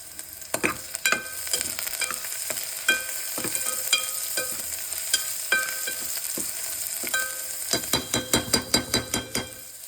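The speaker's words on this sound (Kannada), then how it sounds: "ನೋಡಿ ಜಜ್ಜಿದ್ದು ಬೆಳ್ಳುಳ್ಳಿ ಹಾಕ್ತಾಯಿದ್ದೀನಿ ಈಗ" Crushed garlic sizzles loudly in hot oil for a drumstick saaru, with a steady frying hiss broken by sharp stirring clatters that quicken into a rapid run of scrapes near the end; no voices.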